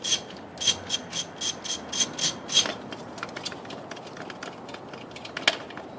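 A hand wrench loosens a lug nut on a wheelchair wheel, making a series of close, short ratcheting clicks in quick bursts. Scattered quieter rubbing and mechanical ticks follow.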